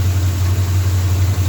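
Ford F750 truck engine idling with an exhaust leak, a steady, loud low rumble that stays even and close with slight pulsing throughout, no talking.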